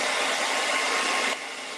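A hair dryer blows steadily and loudly over touched-up paint on a wooden Easter egg, then drops to a slightly lower, softer whir near the end.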